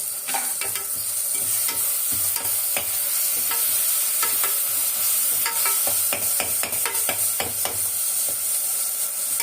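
Ingredients for prawn biryani sauté in a pan with a constant sizzling hiss, broken by frequent scraping and clacking of a ladle stirring in an uneven rhythm, close and fairly loud, no voices.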